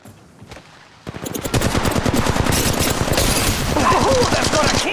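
Assault rifle fire in the mobile game Apex Legends Mobile: after a quieter opening second, a loud, continuous automatic burst of rapid, evenly spaced shots runs to the end.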